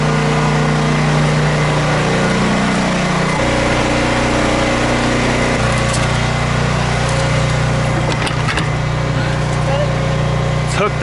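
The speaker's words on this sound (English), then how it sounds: "get you up there with the backpack blower and get as much of the debris and stuff blown off there as you can" A gas backpack leaf blower runs loud and close for the whole stretch, a steady engine drone whose pitch shifts slightly as the throttle changes.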